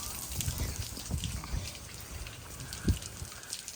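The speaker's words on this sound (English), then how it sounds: "it's not even raining that bad right now" Soft, steady rainfall with scattered drops and patters, faint and close, no voices.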